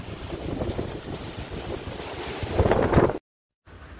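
Strong wind roars steadily through the microphone during a heavy rainstorm at a fishing spot, swelling louder near the end before a sudden brief cut and a return of the gusting noise.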